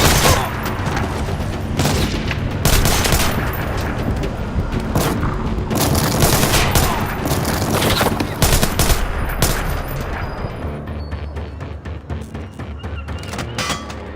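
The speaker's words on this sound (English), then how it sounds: "Bullets whistled overhead, but Sam bode his time" Sustained gunfire from the video game Splinter Cell Blacklist, with dense bursts of automatic fire and booming impacts running continuously and loud throughout.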